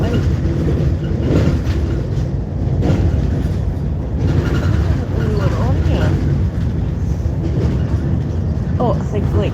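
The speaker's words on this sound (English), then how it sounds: "the buses are so blooming loud" Loud buses on a street in Scotland produce a constant heavy rumble and rattling drone close by, with a person talking faintly underneath the noise.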